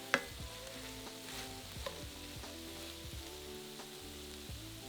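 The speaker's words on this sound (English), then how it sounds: "add in a diced onion. Cook for about 5 minutes, moving around the pan regularly until the onions soften." Diced onion sizzling steadily in a pan over medium heat, with intermittent scraping and clinks as it is stirred around, close and continuous with no talking.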